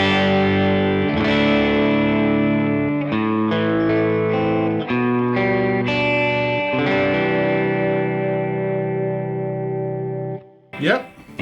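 Electric guitar played through a Myth Drive overdrive pedal, sustained distorted chords and ringing notes with a few changes, close and loud, ending in a brief squeal of string noise.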